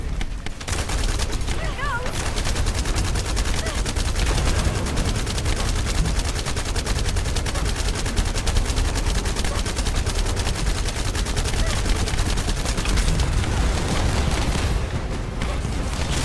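Relentless heat-seeking barrage gunfire from a boss in the video game The First Descendant, a dense, continuous roar of rapid shots and blasts that stays loud and unbroken throughout.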